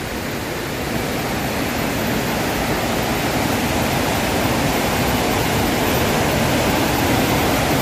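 Citarik river water rushes steadily beneath a bamboo bridge beside a riverside villa amid plantations, a loud, continuous broadband roar with no pauses or voices.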